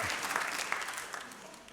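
Applause from a theatre crowd at a comedy act, a broad clatter of many hands that gradually thins and fades toward the end.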